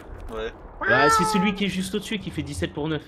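A cat gives several clear meows, one drawn out, close to the microphone while someone talks over them during a Battlefield 3 team deathmatch session on PC.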